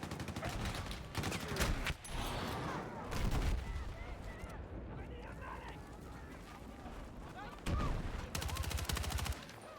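A rifle with heavy recoil fires in the game Battlefield 6, with loud bursts of rapid gunfire at the start, middle and near the end, separated by quieter movement and ambient battlefield noise.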